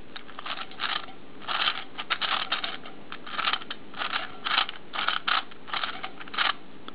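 A gear cube puzzle being twisted gives off quick bursts of plastic clicking and ratcheting, close and fairly quiet, coming in irregular rhythmic clusters with brief pauses between turns.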